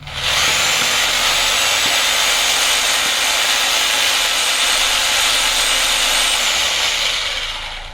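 An Eastman EHD-026 rotary hammer drill runs in hammering mode: a loud, steady, harsh mechanical roar that holds evenly for about seven seconds, close up, with no talking over it.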